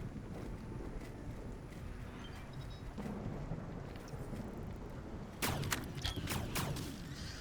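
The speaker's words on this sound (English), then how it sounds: "Come on, thunderstorm, hurry up and pass for me." A thunderstorm in the survival game Stranded: Alien Dawn: a steady roar of wind and rain rumbles on, then sharp bright cracks of thunder burst in near the end, loud and close.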